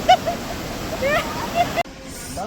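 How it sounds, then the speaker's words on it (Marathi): Sea waves wash in at Chivla beach on the Konkan coast, heard as a broad, rushing wash of surf that cuts off abruptly near the end. "अजून एक 2 लाट आहेत."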